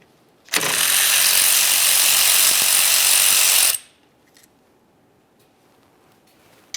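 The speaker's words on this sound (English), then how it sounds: "We'll loosen the top one, but leave it in a couple threads. Fully remove the lower." A ratchet buzzes loudly and continuously for about three seconds while loosening a front brake caliper bolt on a 2005-2010 Dodge Dakota, then stops, leaving a few faint clinks of the hardware being handled.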